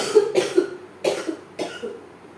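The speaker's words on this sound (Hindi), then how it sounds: "मुझे खांसी हो रही है क्योंकि मेरा गला बहुत ज़्यादा ही ख़राब है।" Several harsh coughs from a sore throat, in about four close bursts, fairly near and loud with no talk.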